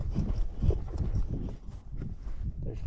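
Horse hooves clip-clopping at a steady walking rhythm while riding through a large grass pasture, the footfalls fairly close and continuous with no talk over them.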